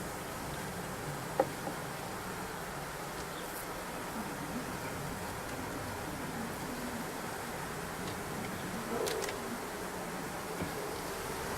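Honeybees buzz around open hive frames in a steady, dense drone close by, with a few faint knocks and clicks now and then and no talking.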